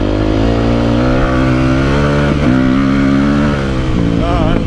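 A Yamaha YZ450F dirt bike ridden on hard enduro trails, its engine loud and close, droning steadily with rising and falling revs.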